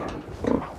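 Pigs on a pig farm, kept in a newly built pen, give a short, close grunt that swells in the middle of a brief moment of farmyard sound.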